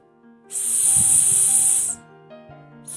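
A person imitates a snake's hiss, one steady breathy hiss lasting about a second and a half, loud and close, with a soft voiced sound briefly under it and a short tail of another hiss after.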